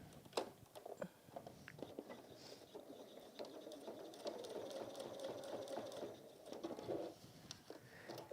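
A sewing machine runs a line of top stitching on a textile mug carry, whirring faintly and steadily in short runs with small mechanical clicks, with no talk.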